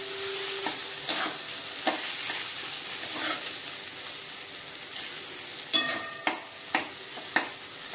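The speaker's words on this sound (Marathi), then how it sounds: "आता आपण त्याच्यावरती कोथिंबीर घालूया आणि गॅस बंद करूया. मिक्स करूया." Eggplant bharit being mixed with fresh coriander in a pan with the heat just turned off, giving soft scraping stirs and a few sharper spoon knocks against the pan over a faint sizzle.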